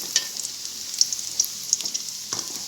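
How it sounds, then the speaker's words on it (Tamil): Snacks deep fry in hot oil to a golden colour, giving a soft, continuous bubbling sizzle with small crackling pops scattered across it. No one speaks. "எல்லாத்தையுமே உள்ளே சேர்த்துட்டு நல்லா டீப் ஃப்ரை பண்ணணும்"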